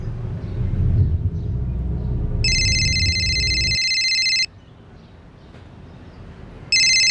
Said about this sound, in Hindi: विवेक भैया का फोन